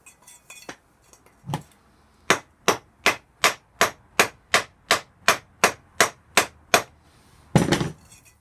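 A fork seal is hammered into a Yamaha Virago motorcycle fork leg with about fourteen evenly spaced, sharp metallic strikes, close and loud, ending in a heavier final knock.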